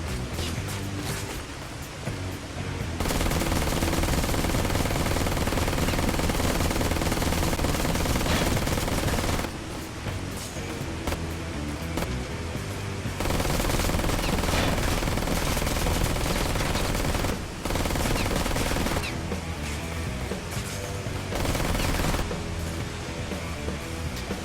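Rapid automatic gunfire in the video game Ride to Hell: Retribution, long loud sustained bursts broken by brief pauses, dense and continuous throughout, with no speech over it.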